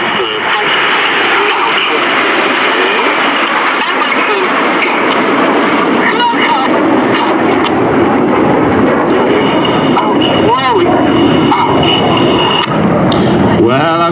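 RAF Red Arrows jets fly a formation display at the New York International Air Show. A loud continuous engine roar runs throughout under constant announcer commentary.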